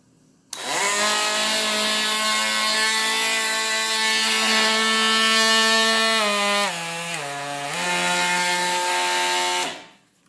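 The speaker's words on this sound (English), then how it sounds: "And this is the oscillating tool." A Porter Cable 20V oscillating tool runs with no load, a steady high buzzing whine that starts abruptly, dips briefly in pitch for a moment partway through, then stops after about nine seconds, close and loud with no talk.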